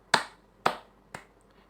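A class claps three sharp, evenly spaced times in a counted rhythm, each clap crisp and close, with the third slightly softer and no talking.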